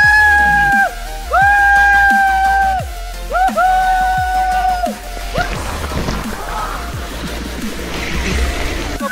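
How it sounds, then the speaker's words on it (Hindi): People screaming as they slide down a water park slide, long sustained shrieks in repeated bursts, loud and close, then fading into splashing, rushing water and crowd noise. "कुछ बंदे और आ रहे चिल्लाते हुए"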